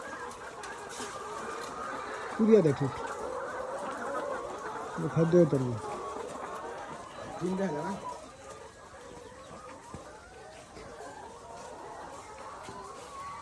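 Chickens cluck in a few short bursts around the middle, fairly faint beneath steady nearby talk and background noise.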